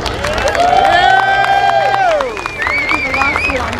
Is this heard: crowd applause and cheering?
yes